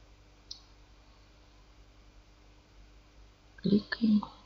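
A few sharp mouse clicks sound close and quiet, one early and a small cluster near the end, over faint room hiss.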